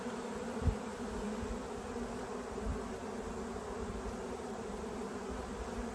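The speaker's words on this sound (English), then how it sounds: "oh, they're fanning." Honey bees buzzing and fanning inside a full swarm trap, a dense, continuous hum that stays steady and close throughout, with no voices.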